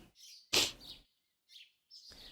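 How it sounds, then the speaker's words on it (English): Birds chirp and tweet outside in the Tsukihime visual novel, in short separate bursts with gaps of silence between them. "I can hear birds chirping outside."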